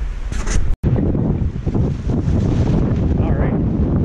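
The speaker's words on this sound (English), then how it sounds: "really windy out here right now" Strong wind roars and buffets the microphone in loud, rumbling gusts at a snowy campsite near 0 degrees Celsius, cutting out for a split second near the start.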